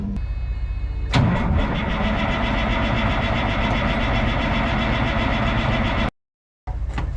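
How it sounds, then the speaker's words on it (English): Truck diesel engine cranks briefly then fires on a cold start and settles into a loud, steady idle close by, with a short dropout near the end before the running resumes. "so we'll see how the cold start does."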